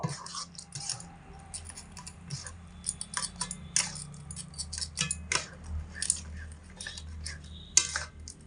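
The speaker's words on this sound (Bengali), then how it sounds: "প্রথমে অল্প পরিমাণে জল দিয়ে সুজিটা আবার একটু নেড়ে চেড়ে দেবো" A spoon stirs semolina batter with water in a bowl, giving soft repeated clinks and ticking scrapes against the bowl, close and fairly quiet over a low background hum.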